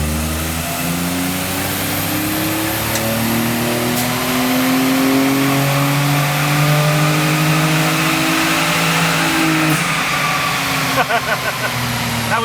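A Mitsubishi Mira's engine revs hard at full throttle on a dyno, its steady roar climbing in pitch through the run and then easing off near the end, loud and close.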